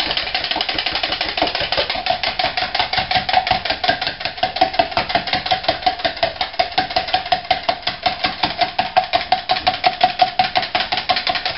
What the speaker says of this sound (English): Now whisk.